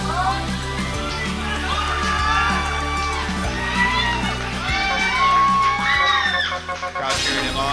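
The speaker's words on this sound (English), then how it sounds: "Crowd cheering him on." Tournament crowd at a Pump It Up dance game event cheering and whooping for a player, loud shouts and screams over pulsing rhythm game music, with the noise peaking and a sharp burst near the end.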